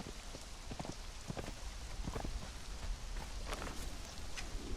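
Video-game rain falling steadily: a dense, even hiss of pattering drops with scattered sharper taps, continuous and moderately loud, with no voices.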